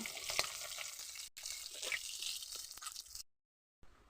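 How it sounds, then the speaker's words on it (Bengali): Steady sizzling of rohu fish frying in oil, with occasional pops and spoon clinks, before a brief cutout. "দেখুন আমার মাছ ভাজা হয়ে গেছে"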